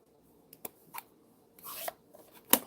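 Paper being die cut for a craft project in a home studio: a few soft taps and rustles, a rougher grinding pass of about a third of a second, then one sharp clack, all close and fairly quiet.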